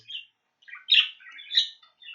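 Bird calling in a classroom vocabulary exercise, a few thin high chirps and squawks in short bursts against silence, clear and fairly close with no talk.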